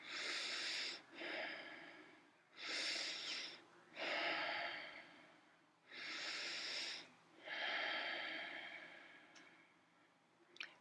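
Slow, deep breaths during a seated chair yoga pose, each long inhale and exhale drawn out over a second or two in a steady rhythm, close and clear with no talking.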